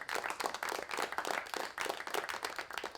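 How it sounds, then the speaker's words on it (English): A stream-alert applause effect for a new follower, a faint, steady patter of crowd clapping lasting a few seconds with no talk over it. "More applause."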